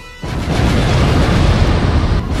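Bomb explosion in a Smash Bros. World of Light plush battle: a sudden loud boom bursts in after a brief quiet moment, then sustains as a dense, roaring blast for about two seconds.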